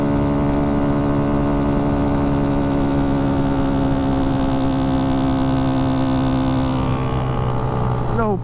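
A Kawasaki Z125 Pro motorcycle fitted with a 143 big bore kit drones steadily as it climbs a hill, its engine a loud, continuous hum with strong harmonics that shifts slightly near the end.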